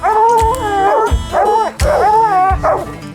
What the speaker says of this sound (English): There's no better sound in this world than those hounds when they tree what you're after.